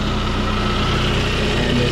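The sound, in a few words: Saab 9-3 convertible engine idling after valve cover gasket change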